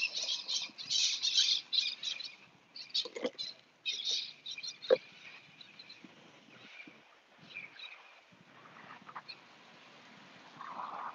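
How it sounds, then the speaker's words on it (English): Parrots chirp and squawk in a string of bright, shrill bursts, some loud and clustered, others scattered and fainter, with quiet gaps in between. "Parrots."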